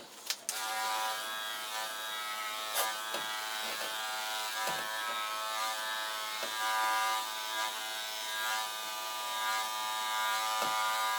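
Electric clippers buzzing steadily as they shave a cat's fur, a close, continuous high-pitched drone with slight changes as the blades move through the coat, alone without talk.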